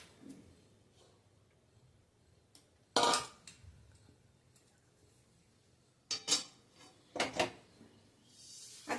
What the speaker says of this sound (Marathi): हे पोहे एका दुसऱ्या भांड्यात काढून घेते